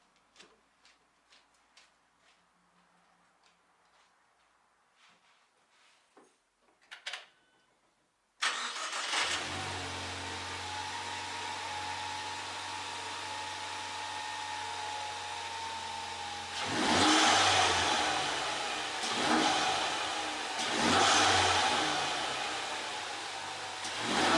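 After faint ticking and clicks, a Ford Mustang EcoBoost engine fitted with an SR Performance intake cranks and catches, settling into a loud steady idle with two swelling revs later.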